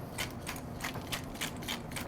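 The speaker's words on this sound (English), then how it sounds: "It's just salt, kosher salt, and pepper. And we just grind it up." A pepper grinder cranked over steaks seasoned with kosher salt, making soft, rapid ratcheting crunches in a quick regular rhythm, close and quiet with no voices.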